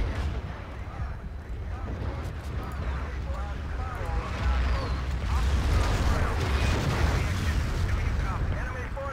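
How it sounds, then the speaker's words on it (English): A grenade bursts amid squad combat in Battlefield 2 on the Daqing Oilfields map: a broad, rumbling blast swells through the second half over constant battlefield noise and gunfire. "Grenade there."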